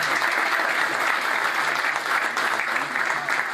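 An audience in a hall gives sustained applause as a tribute, dense clapping from many hands that stays loud and even throughout.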